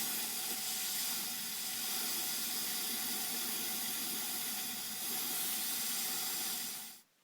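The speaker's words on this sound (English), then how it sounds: "after you pull the plug, you spray fogging oil in each cylinder, probably for about 10 seconds each." Aerosol fogging oil sprays into the cylinders of an inboard/outboard boat engine through the open spark plug holes, a steady close hiss lasting several seconds before cutting off abruptly.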